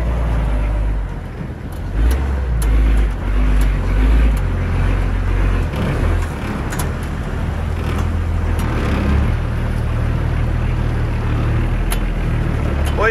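A Suzuki Samurai rolls over a rough tank road, its engine droning loud and close under heavy rumbling, with clunks and bumps from the suspension over the uneven ground.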